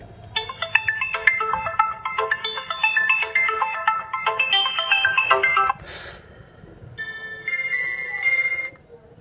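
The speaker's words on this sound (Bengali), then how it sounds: "মাল্টিমিডিয়া থাকবে সেই কাঙ্ক্ষিত রিংটোন অপশন, বরাবরের মতো রিংটোনটা একটু চেক করব।" A REVO 2802 button phone plays its ringtone, a bright repeating electronic melody of quick notes, close and clear. The tune breaks off briefly with a short burst of noise, then resumes with a few sustained tones, with no talking.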